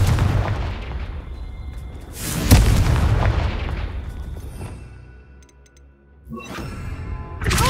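The Confringo fire spell in Hogwarts Legacy lands as a series of booming blasts, one sharp loud explosion standing out in the middle and a fading rumble before another blast at the end, with no voices.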